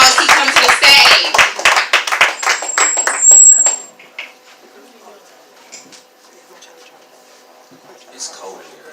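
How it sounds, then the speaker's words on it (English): An open mic poetry show crowd claps as a poet comes up, with sharp, scattered hand claps and voices over the top. The clapping thins out and stops, leaving a quiet room with faint noises. "Clap it up for him"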